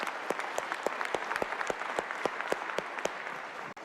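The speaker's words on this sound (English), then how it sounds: "Please give them a round of applause." Steady, sustained applause fills the West Virginia House chamber, with many hands clapping together and a few sharp individual claps standing out, heard at moderate distance without talk.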